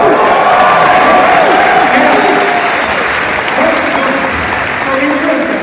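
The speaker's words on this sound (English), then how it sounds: "isn't it interesting that you're all applauding that?" An audience at a lecture in Portland applauds, a loud, dense, sustained wash of clapping from a large crowd that tapers slightly toward the end, with some voices underneath.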